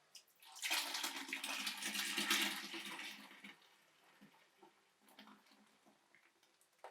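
Sanitizing solution splashes and gurgles out of a wine bottle for a few seconds, then trickles to a stop, followed by faint drips and small handling noises.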